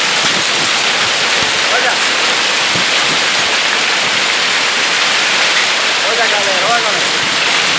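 Heavy rain mixed with hail pours down in São Paulo, a dense loud hiss that never lets up, while a person talks excitedly over the storm.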